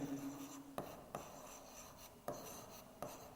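Writing on a board during a math class: quiet scratchy strokes with a few sharp taps spaced about a second apart, in a hushed room with no talk.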